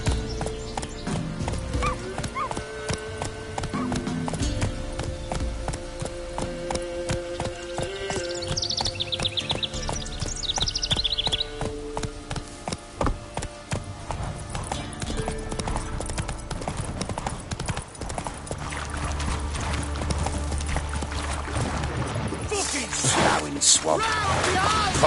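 In The Witcher 3, a horse gallops with rapid rhythmic clip-clop hoofbeats, a whinny breaking in partway, set against game music and effects, and a voice is heard briefly.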